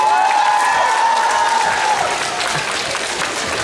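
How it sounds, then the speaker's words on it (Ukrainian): Audience applauding at an awards ceremony during a music festival, a dense steady wash of clapping throughout with a sustained tonal note drifting through the first half. "ваши аплодисменты."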